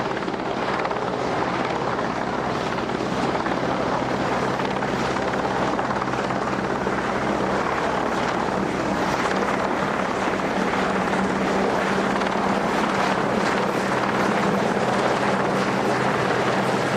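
A Royal Navy Sea King search and rescue helicopter flies at a seaside airshow, its rotor and engine roar holding loud and continuous throughout with a steady throbbing beat and no talk.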